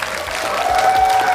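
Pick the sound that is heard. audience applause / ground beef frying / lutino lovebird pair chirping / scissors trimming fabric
audience applause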